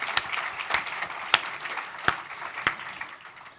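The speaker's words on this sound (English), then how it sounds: "Give her a round of applause for that." Audience applause at a global ministerial mental health summit, fairly faint and thin, with scattered individual claps standing out over a light patter.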